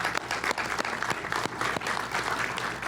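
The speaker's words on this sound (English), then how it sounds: "Give them a round of applause" A graduation audience for electrical lineworkers claps to thank program helpers: a sustained round of dense crowd applause with a few sharper individual claps standing out, steady and fairly loud throughout.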